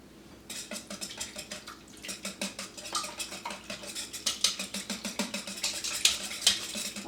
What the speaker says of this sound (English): whisk together the ingredients